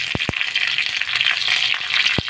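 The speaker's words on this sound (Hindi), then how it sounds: "राई, कढ़ी पत्ता और जो हम मिर्ची स्लाइस में काट के रखे हुए थे वो डाल दीजिए और उसको 2 मिनट के लिए फ्राई कीजिए" Mustard seeds, curry leaves and sliced chillies fry in hot oil for a tempering, making a close, steady crackling hiss with a few sharp pops. No one speaks.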